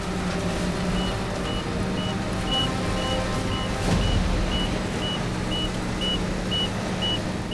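Repeated evenly spaced warning beeps from a crane's capacity alarm at a roadside recovery working over a ditch beside a river, sounding steadily over loud engine rumble and rushing water.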